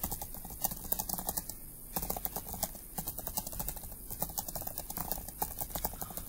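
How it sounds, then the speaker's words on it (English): Rapid typing on a computer keyboard, close and fairly quiet, with irregular bursts of key clicks and a brief pause near the two-second mark. "all I'm typing is just some content that I find interesting."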